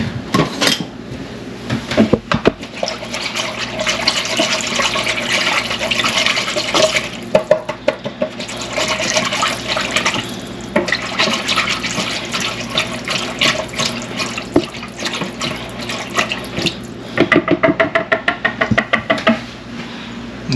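A whisk clinks and scrapes rapidly against a bowl while blending smoked paprika, black pepper and other seasonings for crockpot garlic butter steak bites, a busy, continuous metallic rattle close by with a few sharper knocks and no talking.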